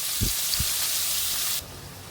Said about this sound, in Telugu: ఇప్పుడు ఇదే ఆయిల్లోకి ఉల్లిపాయలు పచ్చిమిరపకాయలు వేసుకోవాలి.